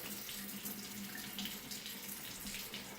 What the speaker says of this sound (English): open the valves and let any pressure bleed out of the lines